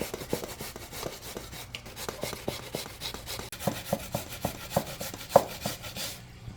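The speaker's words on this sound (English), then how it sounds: "I just finished grating the yam" Yam is grated by hand for a Jamaican pudding, a steady run of close, rhythmic rasping strokes with sharper scrapes toward the end.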